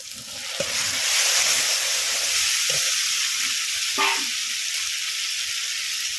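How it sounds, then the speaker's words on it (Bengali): Water poured into a cumin, dried chilli and black pepper spice paste frying in a pan hisses into a loud, steady sizzle close by, with faint stirring clicks under it and no talk. "এবারে একটু মশলার মধ্যে জল দিয়ে দিচ্ছি।"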